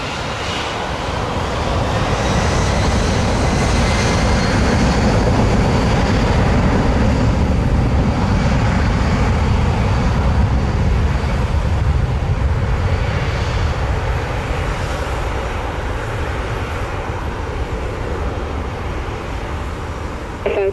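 A jet airliner rolls down the runway on its takeoff run at Montego Bay, Jamaica, its engines a loud, continuous roar that swells and slowly fades as the aircraft climbs away.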